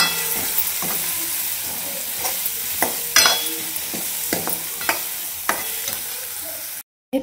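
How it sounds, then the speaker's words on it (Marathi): Spices and garlic sizzle loudly in hot oil as a tempering for a mixed dal curry, with a steady frying hiss and repeated scraping stirs of a spoon, close up with no talk. "तर हे आता तेलात भाजून घेते सगळं."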